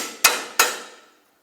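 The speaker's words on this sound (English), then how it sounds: "You can use a hammer to drive it through." Two sharp metallic hammer strikes about a third of a second apart, each ringing and decaying, as a bolt is driven through the rear shock absorber mount of a 2007-2010 Chrysler Sebring; close and clear, no talk.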